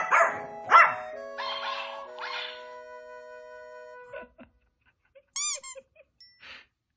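A dog barks and yips a few times, followed by sustained tonal sounds and then scattered high squeaks with quiet gaps.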